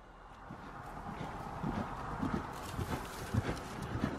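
Two horses canter slowly with soft, rhythmic hoof thuds on an arena surface, moderately distant over a steady background hiss.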